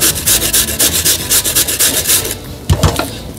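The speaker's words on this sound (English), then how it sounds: "we don't use the large grater, the fine grater, which gives our carrot a nice blossoming, blooming flavor" A carrot rubbed hard against a fine kitchen grater in a rapid, even rhythm of rasping strokes, close and loud, stopping near the end with a couple of knocks as the grating finishes.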